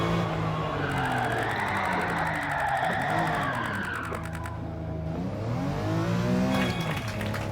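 Car drifting with the handbrake in the video game Gran Turismo 7: a continuous engine roar with tire squeal and skidding noise, loud and steady throughout, with no talk.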